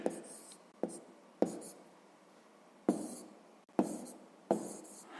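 Pen or pencil writing numbers for a column subtraction in a sixth-grade maths exercise, heard as six short scratching strokes, each opening with a sharp tap and then trailing off, close and fairly quiet with no voice.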